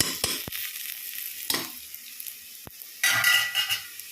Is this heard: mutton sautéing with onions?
yes